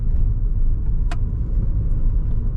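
Car driving on a road during a driving test around Billom, a steady low engine and road rumble heard from inside, with a brief faint click partway through and no talk.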